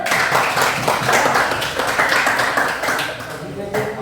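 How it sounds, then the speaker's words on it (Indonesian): Students clapping together in a classroom, a dense burst of applause lasting a few seconds with lively overlapping claps, a few voices mixed in, and the clapping tapering off near the end. "berikan tepuk tangan dulu"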